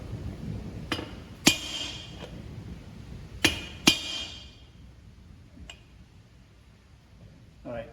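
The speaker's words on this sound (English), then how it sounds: "maybe we'll hit it with a real hammer just to make sure." Ring gear being hammered into place on a Dana 70 axle during a rebuild: several sharp metallic strikes ring out at irregular intervals over quiet shop background.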